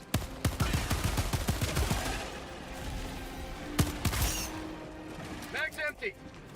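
Rapid gunfire in the video game Helldivers, a fast burst of loud shots that tapers off, followed by distant clanks and effects, with a voice speaking over it.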